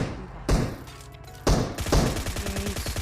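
AWM sniper rifle shots in a battle royale video game, two heavy booming reports about a second apart, each with a long rumbling tail, followed by busier game sound effects.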